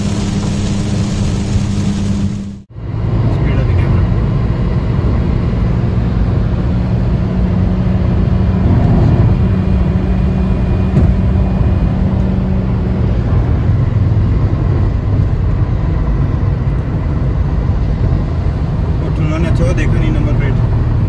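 A car cruises at about 100 km/h along a rain-soaked highway with water pooled across the road, a loud continuous roar of tyres, spray and engine after a brief dip near the start.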